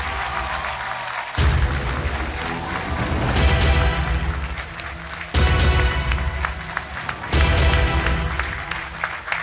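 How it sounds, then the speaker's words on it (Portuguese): Studio audience on a Portuguese evening game show applauds as a 47-year-old contestant is introduced, a dense, steady wash of clapping that swells and surges in waves for several seconds, with no talk over it. "Um aplauso para o Ricardo Rodrigues."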